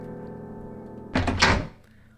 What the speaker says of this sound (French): On toque à la porte et Émile entre.